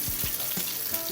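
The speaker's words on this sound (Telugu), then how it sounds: "మంచిగా ఫ్రై అయిపోయినాయి, తీసేసుకుంటున్నా." Chicken leg pieces sizzle steadily in a pan, a close, dense frying hiss with a few soft bumps of movement, no voices over it.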